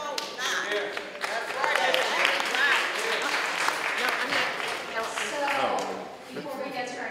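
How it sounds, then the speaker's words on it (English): Applause from the audience at a San Francisco Board of Supervisors meeting where city workers speak out: continuous, fairly loud clapping mixed with crowd voices and cheering, with a slight dip near the end. "I'm going to have to ask to limit the applause"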